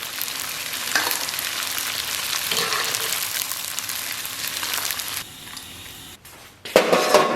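Strips of tofu deep-fry in moderately hot oil in a wok, a steady close bubbling hiss that drops in level near the end before a louder burst of crackling sizzle returns.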